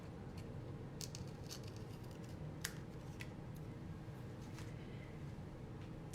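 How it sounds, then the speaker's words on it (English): Scissors snip through the ends of fabric strips in a quiet room, several crisp, close cuts at an uneven pace over a soft background hiss. "and then we can trim off these ends"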